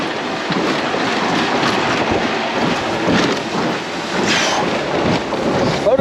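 Strong wind gusting across open water near Rio Vista and Sherman Island, whipping up whitecaps, with heavy rumbling wind buffeting on the microphone that stays loud and steady throughout, no voices.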